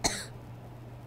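A character in the video game Rule of Rose gives a single short, sharp cough at the very start, followed by a faint low hum and near silence.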